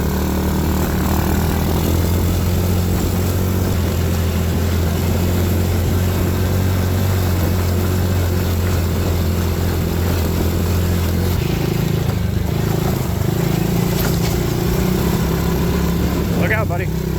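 A quad ATV engine runs loud and steady close by, a low drone that shifts pitch as the throttle changes, with occasional talk over it.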